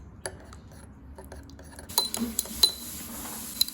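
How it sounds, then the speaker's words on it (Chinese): A piece of fermented bean curd (nan ru) is stirred with its red sauce into a paste in a bowl, with sparse light taps that turn into sharper clinks of a utensil against the dish. "取1块南乳，加入2汤匙南乳汁，把它们搅成泥状"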